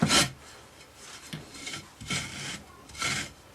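Rammed casting sand being scraped flat across the top of a moulding box for aluminium casting: three rough, gritty rasping strokes spaced about a second apart, close and clear with no talk.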